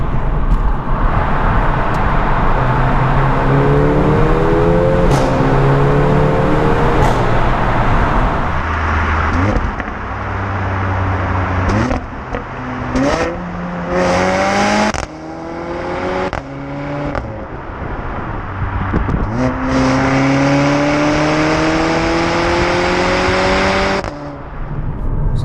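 A car with a 2-litre 4-cylinder engine and an added exhaust drives through a tunnel. The engine note rises and falls through several gear changes, loud and close, with the tunnel's echo and no talk.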